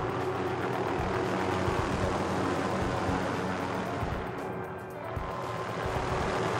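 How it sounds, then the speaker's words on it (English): An aircraft drones steadily overhead in a Call of Duty: Warzone match, a continuous rotor-like hum with low rumble that dips briefly then returns, with no talk. "Is the helicopter following me again?"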